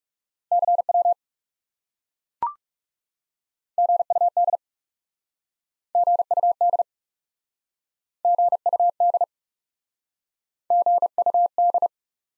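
Clean Morse code CW tones sent at 30 wpm, crisp beeps of a single steady pitch in short groups separated by silences, with one sharp click early on.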